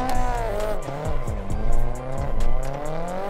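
Car drifting in Assetto Corsa with automatic clutch, engine droning at shifting pitch while tires squeal in repeated bursts through the slide, loud and continuous with no talking.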